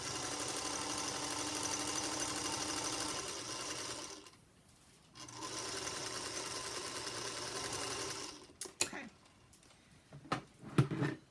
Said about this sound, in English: So now I'm going to make a seam like this.